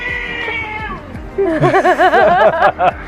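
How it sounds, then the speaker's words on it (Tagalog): Cats yowl and caterwaul in a wavering, rising and falling fight over a steady background hum, loud and close. "May nag-aaway na pusa."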